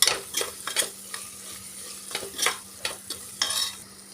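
Prawns being stirred with turmeric, masala powder and pepper powder in a pan, a series of scraping spoon strokes with soft frying sizzle underneath, irregular and close, about eight distinct stirs.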